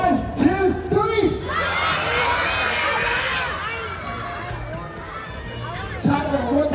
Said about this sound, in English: I want everybody to scream out what you really want for Christmas this year